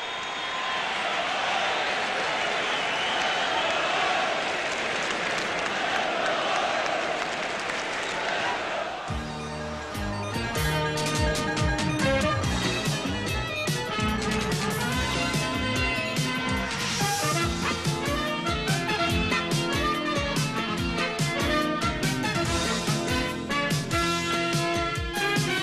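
A packed on-campus college basketball arena crowd roaring before a 1985 Georgetown–Syracuse game, a dense, loud wash that gives way to music after several seconds.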